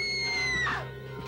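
A woman screams shrilly in a horror film playing on a screen, one rising-then-falling cry over a steady background hum of the film's soundtrack.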